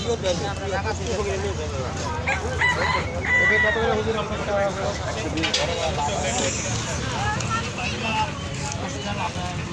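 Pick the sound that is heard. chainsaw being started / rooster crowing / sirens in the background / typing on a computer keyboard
rooster crowing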